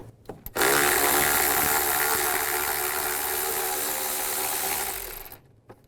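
A 10mm bolt is removed on a 2005-15 Nissan Xterra during a tensioner pulley replacement, with a power tool whirring loud and continuously for about four and a half seconds after a couple of short clicks.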